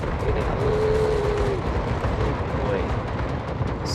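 Warship anti-aircraft guns blaze away in a naval video game, a dense continuous roar of rapid fire and booming blasts filling the scene with no pauses.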